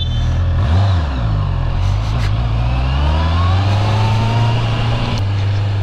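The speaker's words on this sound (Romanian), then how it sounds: "am pornit primul drum prin oraș, primul commuting făcut cu Honda CB650R" A Honda CB650R motorcycle engine revs up and pulls away at the start of a city ride, a loud, close, steady drone with rising pitch sweeps throughout.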